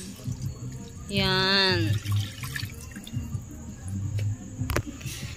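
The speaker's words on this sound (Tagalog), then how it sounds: "Lagay na tayo ng tubig." Water is poured from a glass into a cooking pot in a short gurgling stream that rises in pitch as it fills, with a person talking around it.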